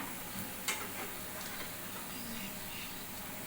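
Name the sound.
alu vadi (colocasia leaf rolls) frying in oil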